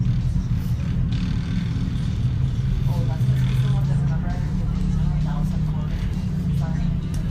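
An off-road race car engine running a little rough during desert race qualifying, a steady low rumble from fairly close, with people talking over it.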